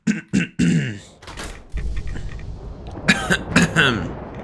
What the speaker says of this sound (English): Getting a case of the coughs